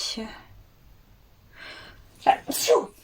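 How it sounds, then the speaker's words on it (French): One sharp, close sneeze follows a quick intake of breath, with quiet pauses around it. "Alors attendez, je vais éternuer."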